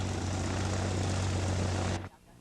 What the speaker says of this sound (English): The planes he flies are called Ultralights, or powered hang gliders